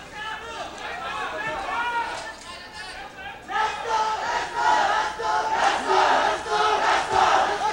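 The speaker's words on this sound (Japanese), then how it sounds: "大橋が一発パンチを当てるたびに場内からわーという歓声が起きます。" Arena crowd at a 1990 boxing title bout between Choi Jum-hwan and Hideyuki Ohashi roars with a swelling cheer of shouts and chatter, rising sharply halfway through as a punch lands.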